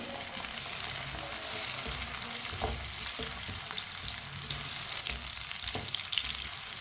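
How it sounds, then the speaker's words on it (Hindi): Finely chopped carrots and tomato frying in a pan while a spoon stirs them, a steady close sizzle with occasional scraping clicks from the spoon, no talking. "इससे भी ऐसे ही चम्मच चलाते हुए फ्राई करना है दोनों चीज़ों को, टमाटर और गाजर को"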